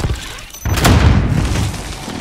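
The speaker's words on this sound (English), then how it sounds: "Enemy precision airstrike inbound." A precision airstrike explosion in Call of Duty hits suddenly after a brief lull, a loud, deep boom that rolls on into a sustained rumbling roar.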